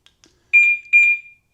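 Locking a BMW K 1600 B touring motorcycle with its central locking system sets off a faint tick, then two loud, evenly spaced electronic beeps close by. There is no talking.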